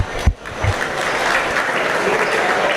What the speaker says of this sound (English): Let's make sure we give those kids a nice round of applause.